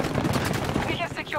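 Rapid automatic gunfire in the shooter game Battlefield 2042: bursts of close, loud shots crackle through the clip, with a voice talking over them.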